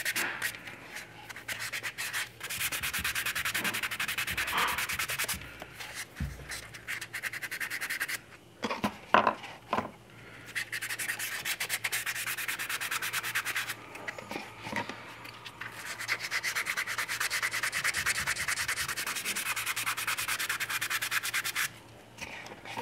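Steady sanding of a primed vinyl 1/6 scale model kit figure, close and continuous rubbing strokes that pause briefly a few times before resuming.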